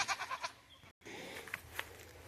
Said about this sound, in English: Goats want to say hi.